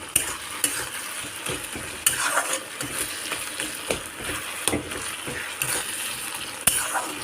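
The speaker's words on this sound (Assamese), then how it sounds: "এইখিনি এতিয়া ভালদৰে আৰু অলপ সময় ভাজিব লাগিব যাতে এয়া বিলাহীৰ পৰা চাইডে ধুনীয়াকৈ তেল বিৰিঙি উঠে।" Dried fish chutney with tomato fries in a pan, giving a steady sizzle punctuated by repeated scraping and clinking strokes of a spatula stirring the mixture.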